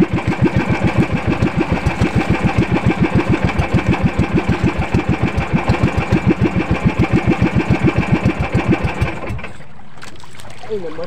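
A boat engine chugs loudly in a fast, steady rhythmic pulse, close by, then abruptly stops as the engine stalls, leaving faint background noise.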